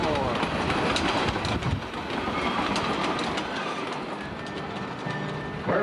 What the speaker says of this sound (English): The last train out of St. John's forevermore.